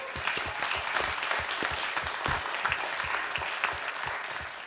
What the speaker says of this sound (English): if we can give them one final round of applause